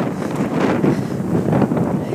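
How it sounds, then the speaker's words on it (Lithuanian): Strong gusts of wind at an outdoor bus stop buffet the microphone in a steady, loud roar with rumbling surges throughout. "Vėjas, ar jūs jaučiat?"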